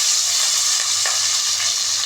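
Green chillies hit a pan already holding tomatoes and onions for a Chettinad brinjal and potato gothsu, giving a loud, bright continuous sizzle with faint stirring scrapes beneath.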